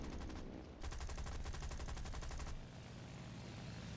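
Steady rapid machine-gun fire in the War Thunder combat game, a dense loud burst running for about two seconds over a constant engine drone.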